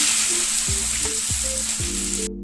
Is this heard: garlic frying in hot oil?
yes